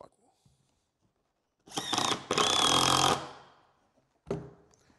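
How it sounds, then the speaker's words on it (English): A power drill drives screws into the timber of a handmade milk crate, two close bursts of loud whirring lasting about a second each, then a brief third burst after a pause. "I'm going to put 2 screws, one there, one over this side."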